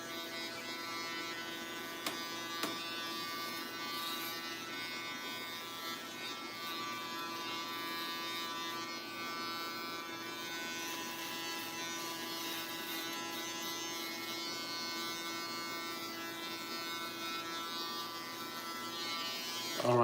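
An electric shaver buzzes steadily across a face during a tight shave. The close, continuous hum runs throughout, with a couple of brief clicks early on and a faint voice in the background.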